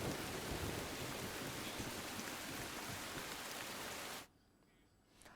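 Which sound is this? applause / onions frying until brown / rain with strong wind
rain with strong wind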